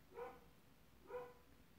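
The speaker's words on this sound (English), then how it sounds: "And you can hear my dog barking outside." A dog barks outdoors at a distance, two short muffled barks roughly a second apart, faint against a quiet room background.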